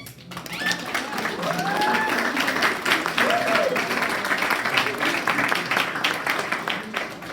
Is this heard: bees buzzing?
no